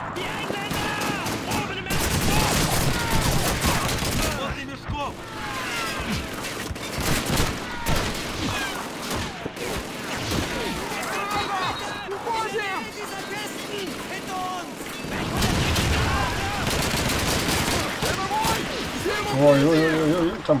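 Bursts of rapid machine gun fire and scattered gunshots ring out repeatedly amid Call of Duty 2 combat noise, including a vehicle-mounted machine gun, with someone talking over it.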